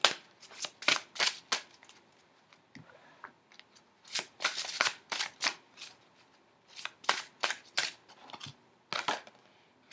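Oracle cards shuffled and drawn at a tarot reading: bursts of soft, crisp riffling and flicking paper in uneven clusters, close but faint, with no talk.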